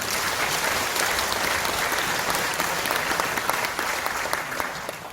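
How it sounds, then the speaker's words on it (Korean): An audience at the launch ceremony for the 2022 Yeongju World Punggi Ginseng Expo claps steadily for the full length. The applause is full, close and sustained, with no clear talk over it. "잘 치러 달라고 박수 한번 해주시기 바랍니다."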